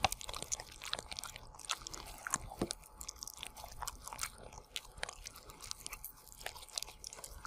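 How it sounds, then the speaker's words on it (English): A corgi chewing and crunching food up close, with rapid irregular bites and crunches continuing steadily throughout, with no talking. "Let Mr. Money enjoy his food and clean the table from himself."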